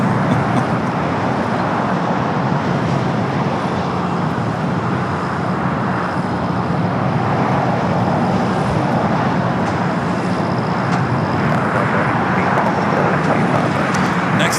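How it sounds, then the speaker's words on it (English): An Alaska Airlines Boeing 737 MAX 9 takes off from the south side of LAX, bound for Seattle: a loud, steady jet roar fills the whole stretch without letting up. "Takeoff here on the south side, Alaska flight 798 heading to Seattle, a 737 MAX 9."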